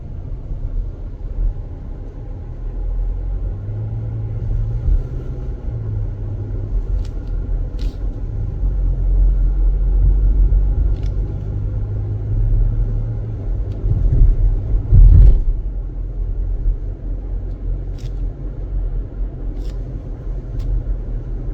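A car driving along Lake Street from Minneapolis to St. Paul, heard from inside as a steady low road rumble and engine drone with faint passing traffic and one brief thump, no talking.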